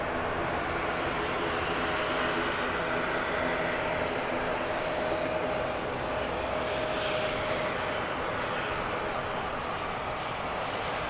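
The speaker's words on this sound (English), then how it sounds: "I don't know if you can make out the sound of an ATR." ATR turboprop aircraft at Birmingham airport, a continuous broad engine roar with a faint steady tone, filling the whole stretch at moderate loudness without pause.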